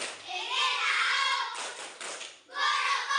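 Children in an elementary school maths class chant a rhythmic concentration yell, tepuk konsentrasi, with claps mixed into the group voices, close and loud with a short break midway.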